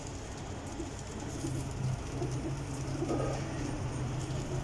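A Sialkoti female pigeon gives low, soft cooing in repeated short bursts against steady background hiss, fairly faint and with no voices.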